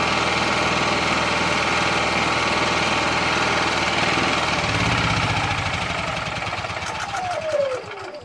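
A Honda EM5000is or EU5000is generator converted to propane runs with a steady, loud engine drone, then slows and winds down after the fuel valve is shut, its pitch sliding lower as it dies away.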